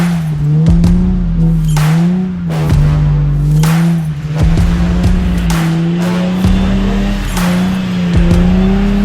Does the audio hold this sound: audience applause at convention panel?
no